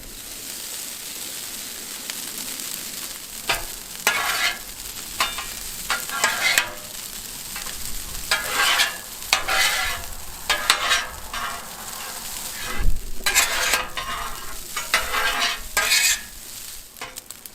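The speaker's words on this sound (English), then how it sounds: "Go ahead and throw down a little bit of oil. I'm just using a little bit of vegetable oil. Now let's go ahead and add our rice." Rice fries in vegetable oil on a Blackstone griddle, a steady close sizzle broken by repeated scraping stirs and bursts of louder crackling as the grains are turned.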